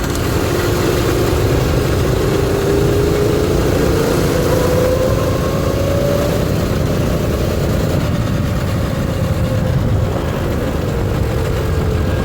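A Predator 212cc small gasoline engine runs steadily at idle, a constant close rumble with a faint rising whine, loud and unbroken throughout with no talk.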